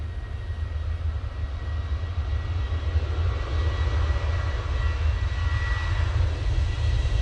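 A Qatar Airways airliner at Manchester Airport gives a steady, distant engine roar that holds even and continuous throughout, with no voices.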